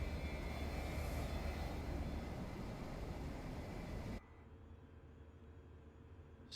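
Engines of a C-17 Globemaster III military transport aircraft in the flight simulator MSFS 2024 give a loud, steady broadband roar, which cuts abruptly to a much quieter hum partway through.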